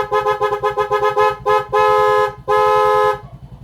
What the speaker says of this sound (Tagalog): busina tayo.